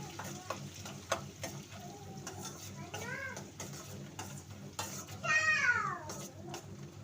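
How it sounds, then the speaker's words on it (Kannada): Onions fry in a pan, giving a soft, steady sizzle under a speaking voice, with a cat meowing nearby and clinks of stirring. "ಉಳ್ಳಾಗಡ್ಡೆ ಹಾಕೊಂಡಿ ಸ್ವಲ್ಪ ಫ್ರೈ ಆಗಬೇಕು"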